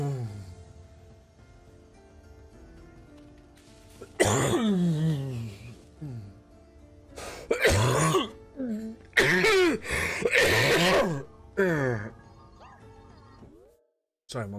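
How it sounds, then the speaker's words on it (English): Several harsh coughs and throat-clearing bursts from a player during a Sonic Frontiers gameplay session, loud and close, spread between about 4 and 12 seconds over faint game sound. "Sorry, my lungs are still coughing."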